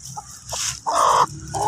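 A hen near her eggs clucks and squawks in short, loud, close bursts with small gaps between them, sounding agitated.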